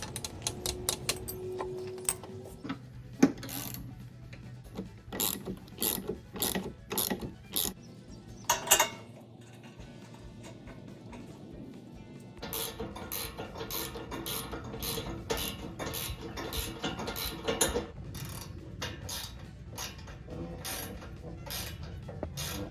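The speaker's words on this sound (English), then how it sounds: "We are going to take off the wheels and then reattach them onto our new shell." Metal parts and fasteners being worked loose from a lawnmower deck as its wheels come off, giving irregular clicks, ratcheting and clanks, with a busier stretch of mechanical tapping in the second half.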